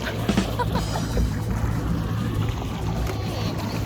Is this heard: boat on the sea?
yes